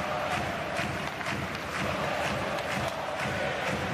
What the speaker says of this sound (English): The crowd really getting behind their team